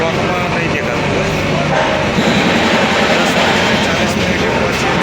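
Train pulling into Jaipur railway station, a loud, steady broadband rumble of rolling wheels and carriage noise running unbroken throughout.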